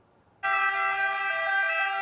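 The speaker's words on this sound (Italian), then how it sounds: "Il suono delle sirene come saluto e buon augurio, passaggio di consegna al comando provinciale dei Vigili del Fuoco di Taranto" Fire brigade vehicles at the Taranto provincial fire command sound their sirens together as a salute. The sirens switch on abruptly and then hold a loud, steady, close wail, with no speech.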